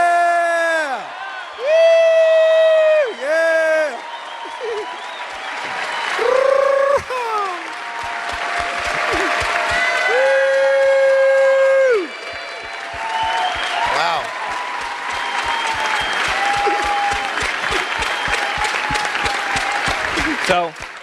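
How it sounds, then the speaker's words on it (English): An audience applauds and cheers for Chelsea at a WorldVentures event, loud sustained clapping with whoops and shouts filling the room, punctuated by long sung or shouted tones over the crowd. "So could you please cheer for Chelsea"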